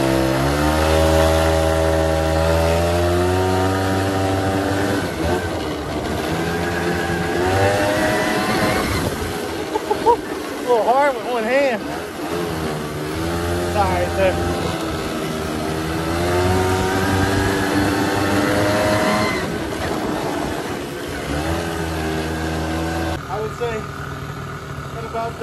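Suzuki LT80 Quadsport ATV engine revving while riding, a loud buzzing small-engine drone rising and falling in pitch with throttle changes throughout, with someone talking over it at times.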